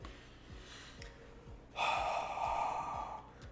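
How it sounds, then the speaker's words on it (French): After fast rapping-style talk, a man draws one long, audible breath close to the microphone, with a faint rhythmic ticking in the background. "là je vais reprendre ma respiration parce que je rappe depuis tout à l'heure comme Eminem"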